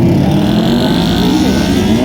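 A Kawasaki Ninja and a ZX6 motorcycle drag racing at a streetbike drag night, engines roaring loud and close in a sustained high-revving drone, no talk.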